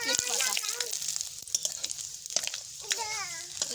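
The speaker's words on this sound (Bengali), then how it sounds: "এইভাবে নেড়ে চেড়ে ভেজে নিলাম" Dry red chilies, five-spice and whole bay leaves, with a spoonful of sugar, fry in hot oil for a jackfruit and potato dish, a close crackling sizzle with stirring clatters while a voice chatters nearby.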